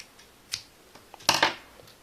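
Scissors snipping yarn during a crochet project, with a couple of quiet, close, crisp cuts and small clicks, then a short louder double snip.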